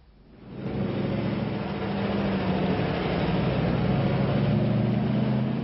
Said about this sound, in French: Nuit et jour, Legnica résonne du bruit incessant des camions soviétiques